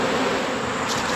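Bees buzz densely around combined beehives, a constant, close swarm hum filling the short moment with no voices.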